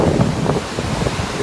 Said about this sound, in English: Up close, the mighty Hvita River flows down this two-tiered waterfall.